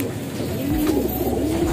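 A pigeon coos in a low, steady warbling call that swells and dips across the short stretch, close and fairly loud with no talk over it.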